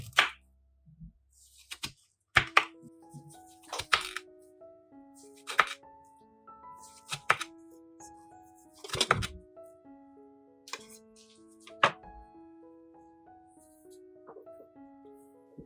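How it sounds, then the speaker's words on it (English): A knife cuts a quarter watermelon into bite-sized pieces on a cutting board, a series of sharp, clean chops and taps spaced a second or two apart, each with a brief ringing tail, in a quiet kitchen. "place it on a clean cutting board, then cut it horizontally into bite-sized pieces"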